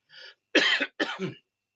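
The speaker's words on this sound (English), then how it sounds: "I got a little cough going on" Two or three harsh, dry coughs in quick succession from a single nearby person, each a short, forceful burst, with a softer throat-clearing sound just before them and silence between the bursts.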